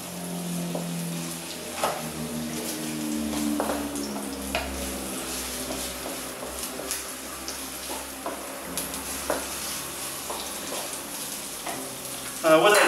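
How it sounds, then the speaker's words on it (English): Chopped onions frying in a pan, being cooked until translucent for stuffed Maltese marrows, give a steady soft sizzle with occasional stirring clicks and scrapes, plus a louder clatter at the very end. "We're going to fry the onions till they're a little bit translucent."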